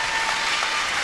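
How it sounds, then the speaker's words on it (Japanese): Boxing arena crowd applauding and cheering after a knockout win, a dense continuous roar of clapping heard for a single second. "この歓声みんなが待っていました"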